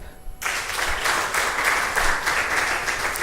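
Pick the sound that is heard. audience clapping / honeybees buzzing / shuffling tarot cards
audience clapping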